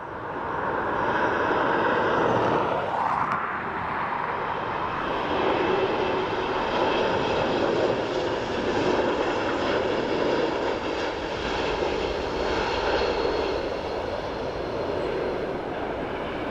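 An Embraer E195-E2 jet airliner lands at Dublin Airport, heard as a loud, steady engine roar with a whining tone that shifts pitch as the aircraft passes, continuous throughout with no talk.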